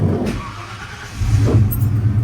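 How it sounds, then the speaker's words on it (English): A Ford 5.0 V8 cranks and then catches, its low engine rumble swelling and settling into a steady idle close by, with no talking. "it was just crank and crank and crank, and now it's on"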